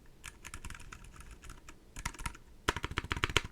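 Typing on a very quiet MM Studio Class 65 keyboard fitted with ACO Fairy silent linear switches, soft muted keystrokes in irregular bursts, then a quicker, slightly louder run of taps near the end, close and alone.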